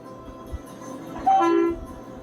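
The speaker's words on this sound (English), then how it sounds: "being gently massaged by the unique rhythm of the train as it moves over the rails" The Durango and Silverton train rolls along its rails with a steady, low mechanical rumble, broken midway by a brief two-note whistle blast before the rolling sound continues.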